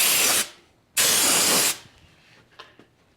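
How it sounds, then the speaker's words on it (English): A spray gun applying undercoating to a Chevy COE truck cab, two loud, close bursts of hissing spray, the second longer, followed by faint clatter and quiet. "this stuff sprays really, really well, goes on nice and smooth"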